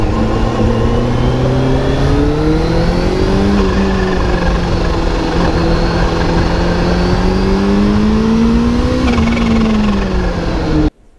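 A 2022 Kawasaki H2 SX supercharged touring motorcycle rides on the road, its engine a loud continuous drone whose pitch rises and falls with throttle changes, close to the microphone and cutting off abruptly at the end.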